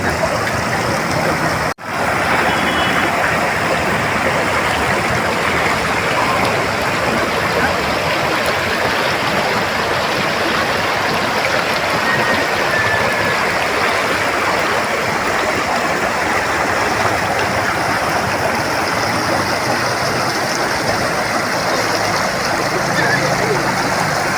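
Steady broadband rush of a flowing stream, continuous and fairly loud throughout, with a brief dropout near the start.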